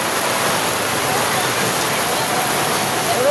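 A loud, constant roar of heavy monsoon rain during a typhoon, broadband and unbroken throughout, with no clear voices.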